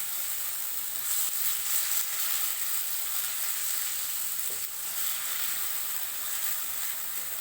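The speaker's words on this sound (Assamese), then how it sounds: "আমাৰ প্ৰায় পিঁয়াজ আদা নহৰু ভজা হৈ গৈছে" Onion, ginger and garlic frying in a pan produce a continuous close hiss and sizzle with a brief scrape of stirring near the middle.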